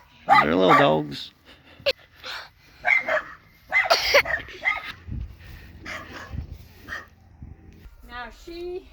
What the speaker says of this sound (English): They're little dogs.